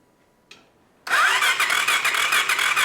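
A scratch-built 50HP engine on a Ford F150 Power Wheels ride-on cranks and catches, jumping from near silence after a brief click into a loud, steady running roar that holds with slight fluctuations.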